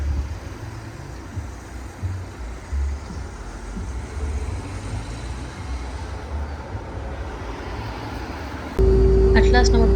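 A bus pulls up at a stop in the UK amid steady traffic rumble, an engine drone building under the street noise before a sudden louder idling hum near the end.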